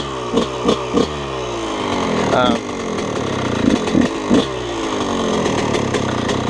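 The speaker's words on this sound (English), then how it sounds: "I like to kick like you should, get it near the resistance point and give it a kick" Yamaha YZ125 two-stroke dirt bike kicked over and running, a loud buzzy engine with a few sharp throttle blips and a rising rev, nearby and dominating, with some talk over it.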